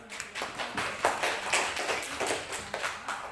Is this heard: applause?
yes